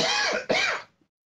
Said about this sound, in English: you really don't want to hear me coughing